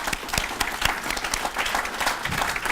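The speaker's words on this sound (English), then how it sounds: "if you could give him a round of applause for taking the time out" Audience applause in a hall for a director, a steady, fairly close patter of many hands clapping with distinct individual claps standing out.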